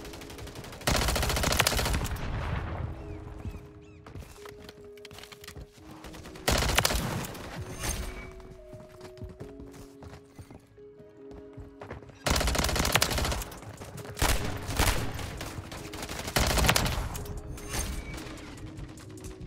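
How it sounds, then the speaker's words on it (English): Heavy gunfire from a Striker 9 submachine gun in Call of Duty MW3 multiplayer, loud rapid automatic bursts in several waves with mechanical weapon sounds between them, no talking. "I had somebody shooting at me."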